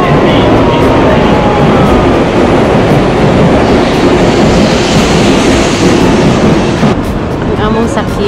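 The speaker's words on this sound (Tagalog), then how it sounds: "You want to see a bullet train? This is a bullet train." Shinkansen bullet train rushing past at a Kyoto station, a loud continuous roar of wind and rail noise that fills the whole stretch, heard close.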